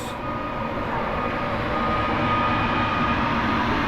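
An Intercity train, the Noteć, passes through Warszawa Zachodnia station, a steady loud rumble of wheels and carriages filling the whole stretch without letting up, with no voices.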